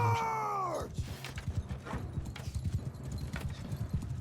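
Horse hooves clip-clop in the Bannerlord video game, a rapid uneven run of close hoofbeats following a brief tonal whinny-like sound at the start.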